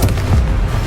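A single deep, booming Confringo blast from the Hogwarts Legacy video game, a loud low rumble with a sharp attack that sustains briefly, no talk.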